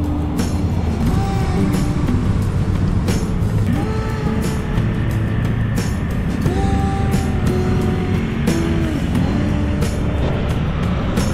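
Steady road traffic near the Marilao exit on NLEX, with cars and larger vehicles droning continuously and engine tones rising and falling as they pass close by.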